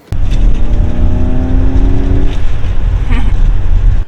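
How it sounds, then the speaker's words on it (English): Loud Ford Mustang GT500 exhaust sound roaring close by, a deep sustained rumble with a brief rev partway through, no voices. "It is the sound of a GT 500 exhaust"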